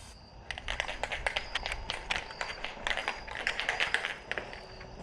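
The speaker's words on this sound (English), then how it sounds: "Give it the initial spray." Bursts of Plasti Dip aerosol spray applied to 28-inch car rims, short hissing sprays in quick irregular succession, close and fairly faint, with no voices.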